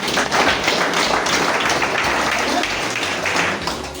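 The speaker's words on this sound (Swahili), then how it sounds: "Hebu jipigie tu makofi." A church congregation at a Nanyuki prayer centre claps together, a dense, steady wash of hand claps filling the room at close range, continuous for several seconds with no talk over it.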